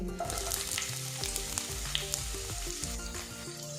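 Chopped ginger, green chilli and onion fry with black mustard seeds in mustard oil, making a steady, fairly quiet sizzle with small crackles and stirring sounds over a faint tonal background.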